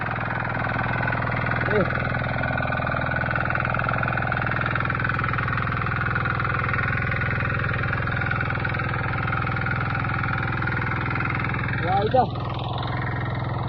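A tractor engine ploughing a field for rice planting drones steadily at close range, a low continuous rumble, with a couple of brief higher squeaks rising above it.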